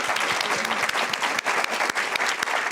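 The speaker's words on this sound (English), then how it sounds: "So we can all a round of applause for you guys." A crowd applauds steadily, many hands clapping together in a dense, even wash of sound that holds for a few seconds.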